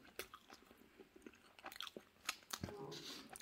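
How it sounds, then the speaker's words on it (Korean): Bread dipped in kaymak-style yogurt being chewed and bitten up close in a village in Turkey, with soft irregular crunchy mouth sounds and small smacks, quiet and close with no talk. "빵 하나 한번 찍어 먹어봐야지"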